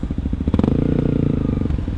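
A modified underbone motorcycle passes nearby, its engine note rising into a steady buzzing drone for about a second before fading, over the rumble of wind and a riding motorcycle.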